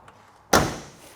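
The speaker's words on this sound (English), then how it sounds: "Door closes well here on the Chevelle." Passenger door of a 1969 Chevrolet Chevelle swinging shut, one solid close, sharp at first and fading quickly, heard close up with no talking.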